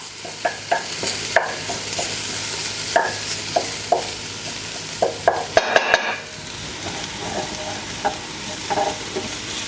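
Garlic warming gently in the bottom of a big batch chili pot, a soft steady sizzle with a run of sharp spoon clicks and scrapes against the pot, close and alone.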